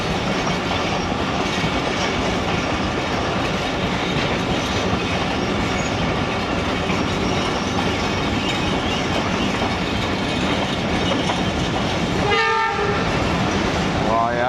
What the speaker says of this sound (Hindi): खानेवाल वज़ीराबाद ब्रांच लाइन से एक माल गाड़ी आ रही है